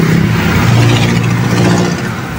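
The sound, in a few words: Toyota Corolla 4AF carburetor engine revving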